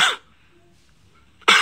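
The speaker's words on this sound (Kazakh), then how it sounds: "Келесі құрғақ жөтел." Two short, dry coughs, one at the very start and one at the very end, separated by near silence.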